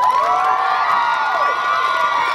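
A festival crowd cheers loudly and continuously, with high shouts and whoops, some sounding like children, sustained without a break.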